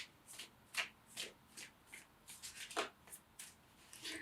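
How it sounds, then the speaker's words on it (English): Crisp, riffling shuffles of a tarot deck repeat in quick bursts, close and fairly quiet, with short pauses between each pass through the deck. "I'm shuffling this deck"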